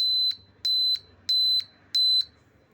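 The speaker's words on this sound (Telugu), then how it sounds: "దానివల్లే ఇప్పుడు మనకి సౌండ్ బీపింగ్ సౌండ్ వస్తుంది." A homemade piezo buzzer circuit gives four evenly spaced, shrill, steady beeps, each about a third of a second long, loud and close against a faint low hum.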